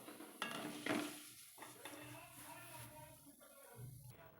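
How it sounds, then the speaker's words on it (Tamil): Mixture snack frying in hot oil, a soft steady sizzle under clinks and scrapes of a metal utensil against the pan. "இப்போ இதை பொறிச்சு எடுத்துக்கலாங்க"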